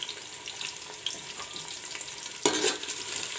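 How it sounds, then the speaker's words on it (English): Onions frying in a pan with bay leaves and whole garam masala, a soft steady sizzle with light stirring scrapes and one sharper burst of hiss near the end, no voices. "Let the onions fry till golden brown."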